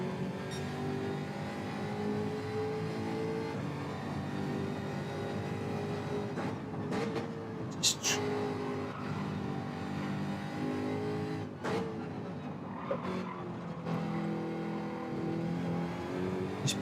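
In a racing video game, a race car engine drones steadily and close, rising and falling with revs and shifts through the corners, with no voices over it.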